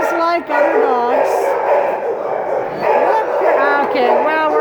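Dogs at the Cuyahoga County Animal Shelter yip and whine in rising, pitched bursts throughout, close and fairly loud, with a person talking over them the whole time.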